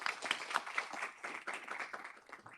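Audience applause at the HCCC Fall 2021 college convocation ceremony, a steady dense clatter of many hands clapping together for a few seconds with no voices on top.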